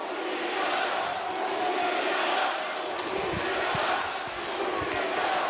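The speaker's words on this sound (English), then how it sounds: "Crowd lending their energy as we go into the next round to Furia." An arena crowd at a Counter-Strike esports grand final in Astana, Kazakhstan, roars and chants steadily as a dense, loud wash of voices, with rhythmic thumps of stamping or clapping joining in the second half.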